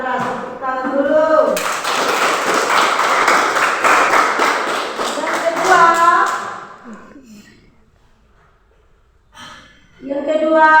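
A classroom audience claps together in a dense burst lasting several seconds, with children's voices heard before and after the applause.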